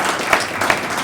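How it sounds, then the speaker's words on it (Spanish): Audience at a railway book presentation in Valparaíso applauding, a dense burst of close clapping filling the whole short moment. "pido un aplauso, por supuesto."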